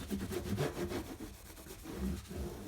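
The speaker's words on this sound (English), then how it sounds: "I'm going to rub off the excess, wipe off the excess" Cloth wipes excess oil off a rosewood fretboard on a vintage Seagull guitar, giving a close, faint, continuous rubbing and scrubbing sound with no talk.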